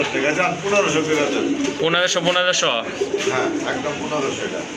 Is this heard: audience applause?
no